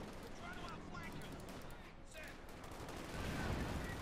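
Submachine gun fire in Company of Heroes 2, faint rapid bursts and scattered battle gunfire in the distance.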